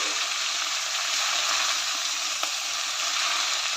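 Fenugreek greens stir-fried in a pan, a dense, constant sizzle and hiss close by with a single light knock partway through, and no talking.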